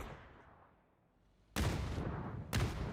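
Uzi fire and a grenade go off in the PUBG video game, a faint fading tail followed by two sudden loud broadband bursts about a second apart.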